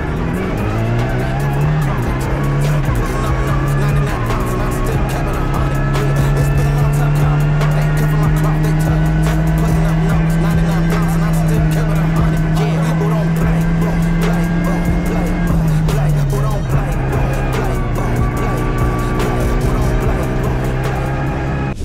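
A rally car prepared for the Critérium des Cévennes, with a rebuilt engine and suspension, drives hard during a test session, its engine droning loud and constant with shifting pitch, tires squealing and scrabbling throughout, heard close from on board.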